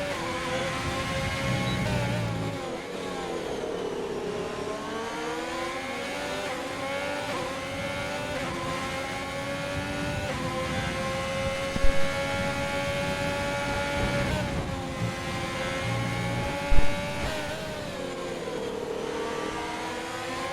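Sim racing cars, including a Ferrari, race at the Hungary circuit in a league event. Engines drone loudly and steadily with rising and falling revs as gears shift through the corners, and a couple of brief knocks come in the later part.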